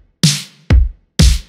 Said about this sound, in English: I think I'm gonna have a kick and snare that sounds like this